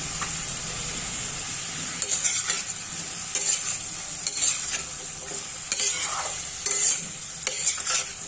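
Jackfruit curry stirred in a hot pan just after salt and turmeric go in. A constant sizzling hiss runs underneath while spoon strokes scrape through it roughly every second, close up and with no voices.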